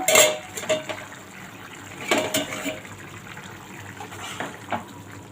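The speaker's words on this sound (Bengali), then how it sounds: "দেখো বন্ধুরা ঢাকনাটা নামাচ্ছি" A lid comes off a pot of a vegetarian drumstick (moringa) curry with a loud metallic clatter at the start, then more clanks and scrapes of cookware with watery bubbling between them, close by and without voices.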